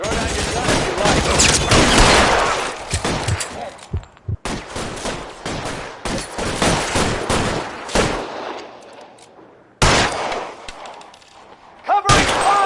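Rapid bursts of gunfire from a shootout in the video game L.A. Noire, with dense volleys cut by short silences and a fresh burst near the end; a voice shouts briefly.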